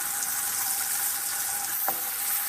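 Thin slices of bologna fry in a pan with a steady, close hiss and sizzle and one brief sharp clink partway through, with no talking.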